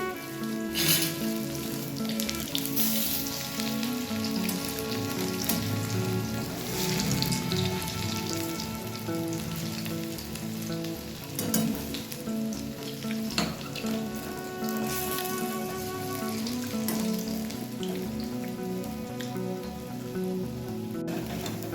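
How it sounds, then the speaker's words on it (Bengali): Drumstick flower fritters frying in hot oil over a medium gas flame, giving a steady, dense sizzle with soft stirring scrapes throughout, close and continuous with no talking. "এবার এটাকে মিডিয়াম ফ্লেমে রেখে নেড়ে চেড়ে ভালো করে ভেজে নিচ্ছি"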